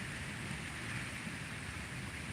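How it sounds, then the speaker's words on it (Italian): Steady rain pouring during a stormy night, a continuous even hiss of drops on surfaces, moderately faint and unbroken, with no talking. "La pioggia proprio."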